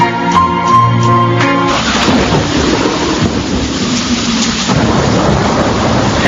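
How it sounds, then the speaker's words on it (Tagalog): Heavy rain pours steadily and loudly, with rumbling thunder underneath and a short musical passage fading out at the start; no one speaks. "Lalong lumalakas ang ulan."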